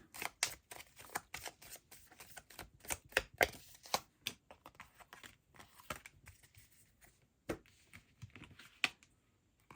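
Tarot cards shuffled and drawn by hand, a close run of crisp flicking and riffling clicks in uneven bursts, fairly quiet with no voice.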